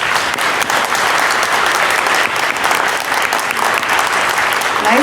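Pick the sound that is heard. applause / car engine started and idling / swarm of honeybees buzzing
applause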